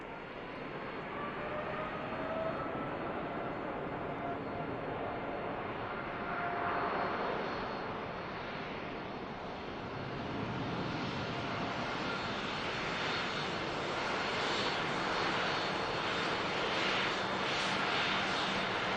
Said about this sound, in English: it looks like we're going to get a rolling start from the Dreamliner